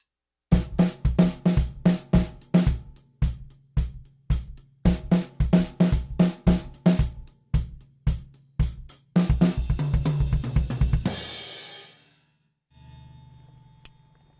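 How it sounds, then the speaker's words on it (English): A live drum kit plays a steady four-on-the-floor kick with a left-hand snare part in a clinic setting, crisp even hits repeating close and clear, then swelling into a washy cymbal-heavy build that rings out and fades. "When I play the 4 on the floor and only play my left hand part, so the snare part, it will sound like this."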